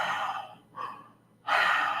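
A voice imitates heavy breathing into a headset microphone, with two loud, breathy exhalations separated by a softer breath, close and harsh with no talking.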